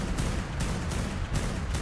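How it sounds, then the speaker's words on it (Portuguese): Gunfire in a dinosaur-taming modded video game, a quick burst of several muffled shots in rapid succession, fairly faint and low in the mix. "Olha o bando de tiro."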